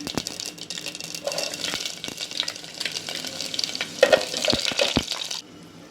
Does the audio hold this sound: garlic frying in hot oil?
yes